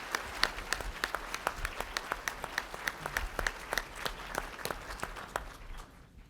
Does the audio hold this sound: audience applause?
yes